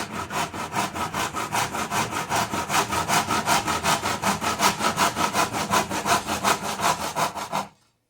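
A hand saw cuts wood for a picture frame in brisk, even back-and-forth strokes, close and steady for about seven and a half seconds before stopping abruptly.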